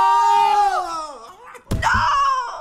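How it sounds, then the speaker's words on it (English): A loud, high-pitched scream, a long wavering wail that drops in pitch, is cut by a sharp smack, then rises again into a shrill cry, close and dominant during an underwater-mode game match. "I don't think I've ever heard him scream that loud before."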